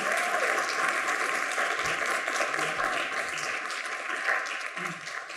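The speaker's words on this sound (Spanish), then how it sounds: "Y les pido, por favor, que los recibamos con un fuerte aplauso de nuevo." At a film school talk, an audience gives a strong, sustained round of applause to welcome the guests, a thick even patter of many hands holding steady throughout, with a constant electronic hum running beneath it.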